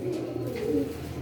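Indian pigeons coo softly and steadily nearby, low warbling rumbles overlapping in a continuous murmur, with no one talking.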